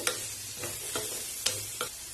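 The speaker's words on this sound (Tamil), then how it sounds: "இப்போ ஃப்ளேமை வந்துட்டு லோ பண்ணி வச்சுட்டு இந்த எண்ணெயிலே அப்படியே வதக்கி விடுங்க" Chopped bottle gourd sizzles steadily in hot oil over a low flame while a spoon stirs it, with a few sharp scraping clicks against the pan.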